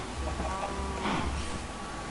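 Cows in the video game Minecraft moo faintly, the low calls half buried under a steady hiss of background noise.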